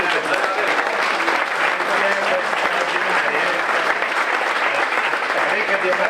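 A large audience applauds continuously and loudly, a dense even wash of clapping that holds steady throughout.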